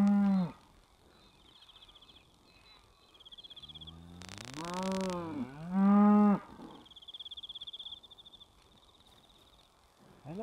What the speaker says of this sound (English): Hello, moo cows.